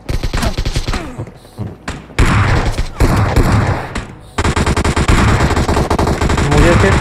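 Rapid bursts of automatic gunfire in the PUBG battle royale game, loud and close, rattling in repeated volleys with brief gaps, while a player talks over it.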